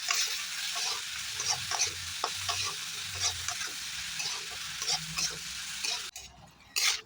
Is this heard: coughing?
no